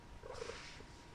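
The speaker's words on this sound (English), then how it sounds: "If you can hear a little bit of purring in the background, that's because my cat has decided to join me" Pet cat purring softly nearby, a low continuous rumbling purr with faint pulsing, brief and fairly quiet.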